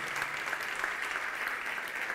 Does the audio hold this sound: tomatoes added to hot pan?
no